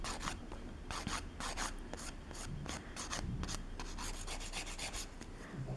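A gel nail built on a nail form is filed by hand, producing rapid, close, rhythmic rasping strokes that continue steadily throughout without talk.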